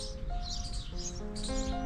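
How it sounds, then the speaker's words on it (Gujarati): Small birds chirp and tweet at a shelter where many birds and squirrels gather and feed, with soft, quiet twittering calls blending into a gentle outdoor background. "આ પક્ષીઓની કંઈક અલગ દુનિયા છે પક્ષીઓનું આ સામ્રાજ્ય છે"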